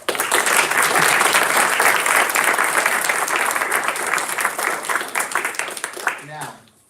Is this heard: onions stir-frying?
no